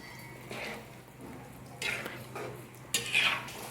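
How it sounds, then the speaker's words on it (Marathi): Bottle gourd pieces with cut jaggery being stirred in a pan, soft scraping and gentle sizzle with a few louder utensil scrapes against the metal, close by, no talking. "याला प्रॉपर मिक्स करून घेऊ एक वेळेस"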